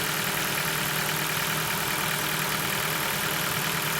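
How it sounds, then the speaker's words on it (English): A Ford Focus MK2 engine idles with the bonnet open, its worn engine mount letting it vibrate, giving a constant close rumbling hum without a break. "there is a bit of a vibration from the engine"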